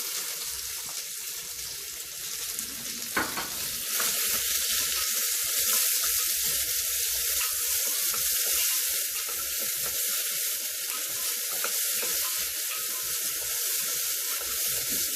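Shallots frying with fenugreek seeds in hot oil, a steady bright sizzle running throughout with a brief clatter near the start, no voices.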